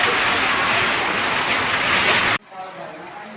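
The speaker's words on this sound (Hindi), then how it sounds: "ओलों के साथ बारिश।" Heavy rain with hail falling in Rajasthan, a loud, dense, steady hiss close by that cuts off abruptly near the end to a faint background.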